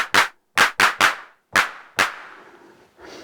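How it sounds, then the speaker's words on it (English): Clap voice of an IK Multimedia UNO drum synth fires in short, sharp, separate hits, about seven in an uneven pattern, with the later strikes ringing out into longer decaying tails. "the clap can be adjusted, decay"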